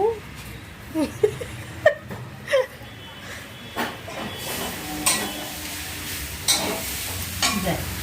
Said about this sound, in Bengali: মা রান্না বসিয়ে দিয়েছে, ওই গোটা চচ্চড়ি একটু গরম করছে